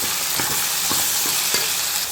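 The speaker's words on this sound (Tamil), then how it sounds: "இப்போ இந்த எல்லா காயுமே சேர்த்து இதோடய வதக்கி விட்டுக்குவோம்." Mixed vegetables and tomato sautéing in a hot pan for a lentil tamarind curry, a steady loud sizzle broken by several scraping stirs of a spatula.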